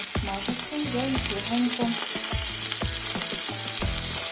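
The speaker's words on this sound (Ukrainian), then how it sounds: "Поки баклажани смажаться" Eggplant pieces sizzle and crackle in hot oil in a heated frying pan, a steady dense fry with repeated stirring scrapes and utensil clinks close to the microphone.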